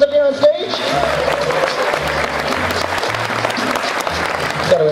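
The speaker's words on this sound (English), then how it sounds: "Let's give her a huge round of applause as she comes up here on stage." An audience at a live stage show applauds as a volunteer walks up, steady clapping from the start with a voice briefly audible at the very beginning.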